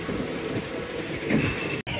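A Ghost Train ride car at Blackpool Pleasure Beach rumbles and clatters steadily along its track, a continuous rolling noise that cuts off abruptly near the end.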